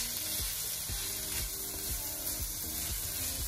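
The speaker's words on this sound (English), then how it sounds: "fry them with the rest of our stuff for maybe two minutes" Finely chopped vegetables sizzle and fry in a pan for veg manchow soup, a loud continuous hiss with rhythmic stirring scrapes and no talk.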